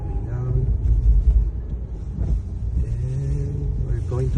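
An engine of a commercial vehicle rumbles low and steady as it slows for a speed bump, its deep drone rising briefly before easing off, with someone speaking over it.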